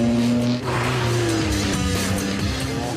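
A fast car on a hill climb course, loud and close, its engine revving hard as it accelerates and shifts, with tire squeal and the roar moving past over three seconds.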